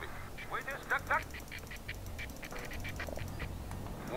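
Ducks quack in the World in Conflict video game, several nasal quacks in quick bursts over a background of battlefield ambience, with a voice talking over them.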